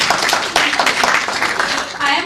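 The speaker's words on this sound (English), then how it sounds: "She needs a round of applause just for acknowledging." An audience claps for a panel speaker in a brief, moderately loud round of applause, and voices can be heard mixed in.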